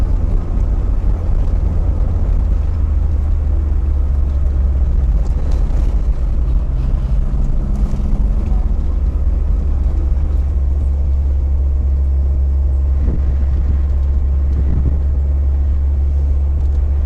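A car driving along the B4 road through rural Clarendon in Jamaica, with a steady loud engine and road rumble filling the whole stretch, occasional faint knocks and rattles, and no talking.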